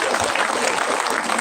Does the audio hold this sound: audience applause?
yes